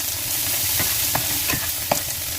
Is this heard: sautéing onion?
yes